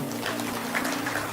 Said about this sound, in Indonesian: Tepuk tangan buat Tuhan Yesus dong.